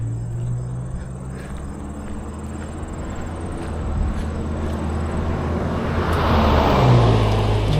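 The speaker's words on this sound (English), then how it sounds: "There comes a car." A car approaches along a quiet road beside a walking trail, a low steady engine and tire rumble that swells louder near the end, over a faint outdoor hum and insect drone.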